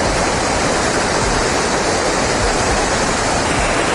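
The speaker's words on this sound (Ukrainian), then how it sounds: "По дорозі навіть є невеличкий водоспадик." A small waterfall beside a hiking trail in Alberta's Kananaskis park rushes steadily, a loud, continuous broadband roar of falling water with no pauses and no voices.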